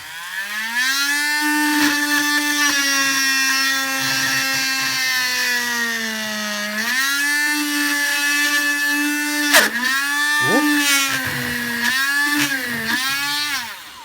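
A Dremel rotary tool whines loudly and steadily while cutting a spike for a customised Doom Destroyer figure, its pitch dipping and recovering as it bites into the piece, with a sharp snag partway through.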